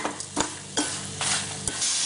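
A utensil scrapes and stirs spices roasting in a pan with a soft, steady sizzle underneath, in brief repeated strokes, close up and with no voices.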